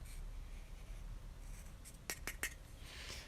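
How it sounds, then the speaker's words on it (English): A blade cuts into a plastic Oculus Rift sensor part, three sharp scraping clicks coming close together after a quiet stretch of low background noise, no talking. "So since the cord is now coming out the back, I'm going to have to cut a hole here."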